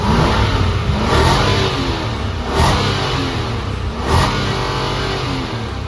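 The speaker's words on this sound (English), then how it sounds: "It's a big engine. That is a big engine." Engine of a 2023 Infiniti QX80 4WD revving, several loud rising surges of a big engine over a steady idle-like drone, heard close with no talking.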